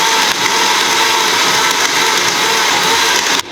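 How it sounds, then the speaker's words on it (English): A kitchen blender whirs loud and steady while blending homemade ketchup, a continuous high motor whine with grinding texture that runs almost the whole time before cutting off abruptly at the end. "we're gonna blend this up again one more time"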